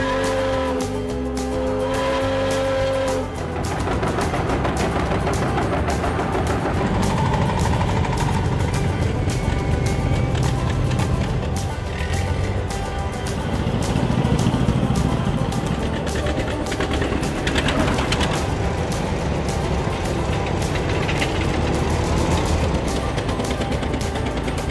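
Several vintage tractors running together on a backcountry tractor drive in Oregon House, California, a continuous loud engine drone with shifting revs and occasional rattles throughout.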